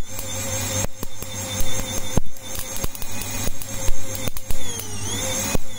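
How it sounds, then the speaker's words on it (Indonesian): A cooling fan driven by an inverter under load spins steadily with a whirring hum. Sharp electrical clicks and crackles come through repeatedly, and there is no talking. "Pendingin menyala dengan sempurna."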